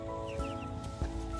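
Backyard hens in a chicken coop giving soft, short clucks, a couple of brief calls close by over a quiet steady background hum.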